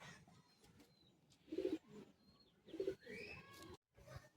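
Two soft, low pigeon coos, roughly a second apart, over a quiet background hiss.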